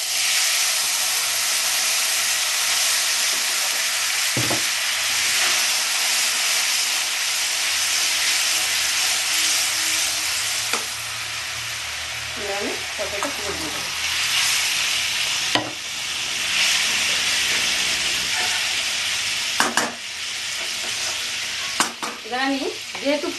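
Curry stirred and frying in a pan just after a tempering of ground cumin paste, with a steady close sizzle and hiss and intermittent scraping strokes of a spoon, no talking.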